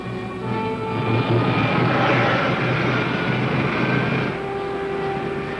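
Rocket ship main jets fire with a loud, sustained roaring rush that holds steady for several seconds before easing slightly, with no voices over it.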